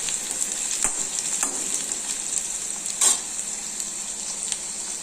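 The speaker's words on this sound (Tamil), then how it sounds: "வெங்காயம் வதங்கணும்னு நம்ம வெங்காயத்தால் போட்டுருக்கோம்" Onion and spring onion sauté in a pan, giving a steady bright sizzle with a few sharp stirring clicks and scrapes, close and moderately loud.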